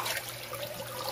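Floodwater at high tide rushes against and through a gate in Taliptip, Bulakan, Bulacan: a steady, close, broadband rushing and trickling that stays even throughout, with no voices.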